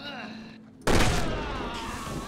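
A sudden loud burst of gunfire erupts from the video game Resident Evil 6 after a quiet moment, with a booming blast that rings out and slowly fades. No one speaks during it.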